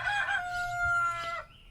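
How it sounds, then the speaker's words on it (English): A rooster crows nearby in a Missouri vegetable garden, one long loud cock-a-doodle-doo with a sustained harmonic call that breaks off sharply near the end. "I'm going to spend this entire time competing with that rooster."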